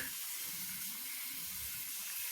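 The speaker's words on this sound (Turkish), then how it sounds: "Şimdi ılık suyu bir ayarlayalım. Oo, çok açtın sanki." Warm water runs steadily from a tap for hair washing, a close, even hiss with no pauses.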